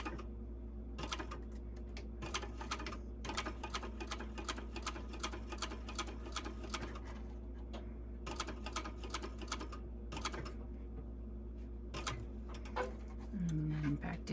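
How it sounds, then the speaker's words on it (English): A sewing machine set to a 4.5 stitch length top stitches 1/8 inch from the edge along both sides of a pouch with a 1/2 inch strap, giving bursts of rapid mechanical ticking separated by short pauses over a steady low hum. "now I'm going to top stitch on both sides"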